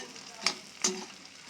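Onions fry in a pan with a soft, continuous sizzle, lightly frying rather than tempering, broken by two quick scraping stirs.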